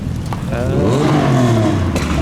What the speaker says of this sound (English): That's TVR Tuscan revving.